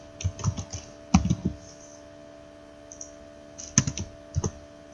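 Typing on a computer keyboard: clusters of quick key clicks with pauses between, close and clear over a steady faint electrical hum, no speech.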